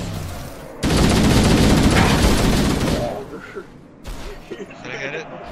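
Loud, rapid automatic gunfire in Halo: The Master Chief Collection rattles nonstop for about two seconds, then gives way to scattered softer impacts and game noise, with a voice heard talking toward the end.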